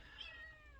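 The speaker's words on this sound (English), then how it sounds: "Little kitten. It's a Bengal. They cry all the freaking time." A Bengal kitten gives a single thin, faint meow, heard quietly over a steady low background hum.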